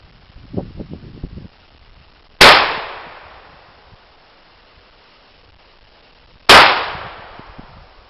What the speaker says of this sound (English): We'll shoot the Mossberg first at the left two top targets.